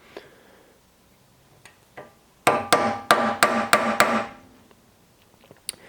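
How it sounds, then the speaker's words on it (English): Small carpenter's hammer tapping a chisel to cut a groove for wire inlay in steel, a quick series of about seven sharp ringing metallic strikes, close and alone, after a few faint scattered taps. "I'm only using like a little tiny carpenter's hammer"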